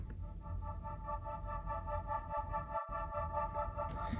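A string patch run through a pulsing effect plugin in a dark trap beat, sustained tones throbbing in a steady rhythmic pulse, played alone and fairly quiet for a few seconds.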